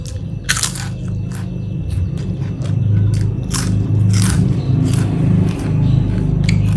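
Someone bites and chews a crispy fried snack, producing a run of sharp, close crunches at an irregular pace over a low steady background hum.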